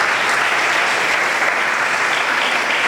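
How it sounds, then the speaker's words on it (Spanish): A church congregation applauds its pastor at an evening conference service, a loud, steady, dense wash of clapping that stays even from start to finish. "démosles un fuerte aplauso"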